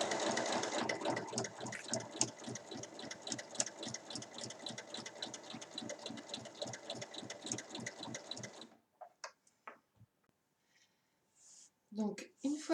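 Sewing machine stitching the fabric handle of an Easter basket, a fast steady mechanical rattle for about eight seconds, then stopping, followed by quiet handling and a brief voice.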